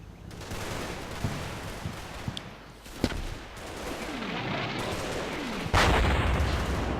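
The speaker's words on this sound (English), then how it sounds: "So I'm guessing that is probably German artillery trying to get a spotting round" German artillery shells exploding in the Combat Mission war game, several sharp booms and thuds scattered over seven seconds with one loud close crack and a heavier blast near the end, over a continuous noisy rumble of battle.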